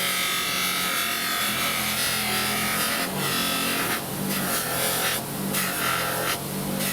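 A fibre wheel polishes a pair of steel Lindstrom 197 7-inch pliers. It gives a loud, continuous abrasive whine and rasp close by, with the grinding roughening in bursts as the metal presses into the spinning wheel.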